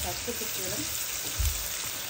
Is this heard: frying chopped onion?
yes